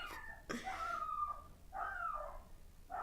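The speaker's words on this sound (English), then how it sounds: "That's my dog barking." A dog barks three times in separate bursts, fairly close, with short yelping tones and quiet gaps between them.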